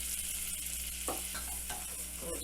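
Flour being stirred into a hot pan to cook a roux for a chicken nugget mac and cheese, with a low steady sizzle and a few soft scraping stirs close by, no talking.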